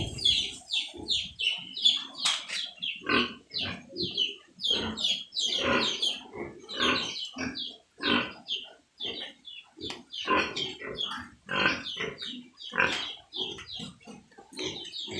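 Pigs on a provincial Philippine farm grunt and oink in quick, overlapping bursts, close and fairly loud, with a few squeals and some bird or chicken calls mixed in.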